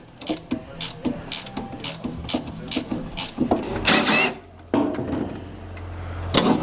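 A ratchet wrench with 16 mm and 15 mm sockets clicks through repeated strokes while loosening a very tight bolt and nut on the rear torsion suspension of a G5. The ratcheting is close and loud, with short pauses between bursts of clicks.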